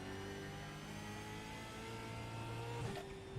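Ford Mustang Gen 3 Supercar engine from iRacing at Thruxton, a steady mid-pitched drone with harmonics that rises slightly, then a brief gear-change blip near the end, with no talk.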